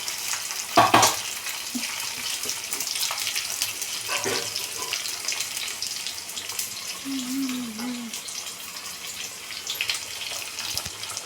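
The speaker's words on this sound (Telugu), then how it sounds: "ఇప్పుడు ఒకసారి కలుపుకోవాలి" Tomato dal with curry leaves is stirred in a small pan, giving soft sizzling and a few scraping clinks of the spoon against the metal, with a brief louder knock near the start.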